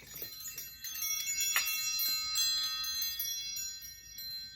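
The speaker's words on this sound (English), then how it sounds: "Love the wind chime," A vintage solid brass wind chime rings in layered, sustained metallic tones. Several soft strikes overlap and linger as shimmering, bell-like overtones at moderate loudness, with no voice heard.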